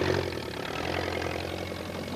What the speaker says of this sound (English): the tractor engine started up and the trailer began jolting on its way